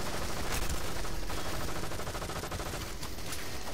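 Gunfire in the Goldeneye: Source deathmatch game: a dense, continuous burst of rapid shots that fills the whole moment at a loud, even level, with no talk over it.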